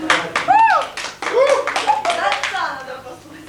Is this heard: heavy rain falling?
no